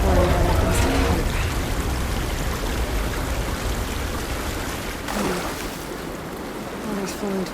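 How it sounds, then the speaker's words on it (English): Water flowing and trickling toward a wall drain in Horizon Forbidden West, a steady broadband wash with a brief splashing swell near the end. "Water's flowing towards the drain in the wall."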